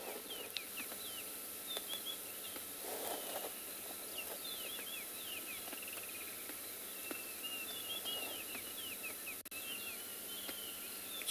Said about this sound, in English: Hear the wonderful birds.